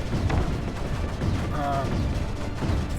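Sniper fire in Creeper World 4, a dense rumbling stream of muffled shots and booms, steady and fairly loud throughout, with game effects mixed in and no talk over it.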